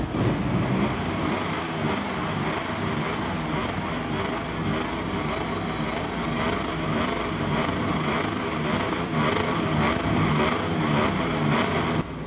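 MotoGP video game race at Phillip Island's Australian Grand Prix, with Yamaha bikes at the front: several motorcycle engines scream continuously at high revs, loud and dense, with no talk.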